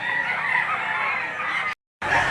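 Chickens at the Lipa auction market, a loud rooster crow and clucking up close, dense and continuous, broken by a brief gap before resuming.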